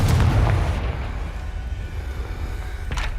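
The Confringo explosion spell in Hogwarts Legacy goes off as a heavy, booming blast at the start and then decays into a rumbling tail, with a fainter pop near the end.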